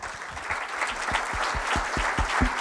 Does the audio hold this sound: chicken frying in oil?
no